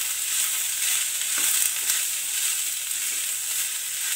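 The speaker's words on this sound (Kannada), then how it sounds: "ಇದನ್ನ ನೀವು 2 ರಿಂದ 3 ನಿಮಿಷ ಆಯಿಲ್ ನಲ್ಲೇನೇ ಫ್ರೈ ಮಾಡ್ಕೋಬೇಕು" Diced beetroot fries in hot oil for a beetroot palya, giving a steady close sizzle and crackle with faint stirring scrapes and no voices.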